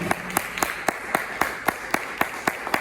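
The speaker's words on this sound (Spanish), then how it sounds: "Denle un aplauso porque Él vive y reina." Sparse, evenly spaced claps ring out about every quarter second at a church service, a slow rhythmic clapping rather than a full crowd ovation, fairly close.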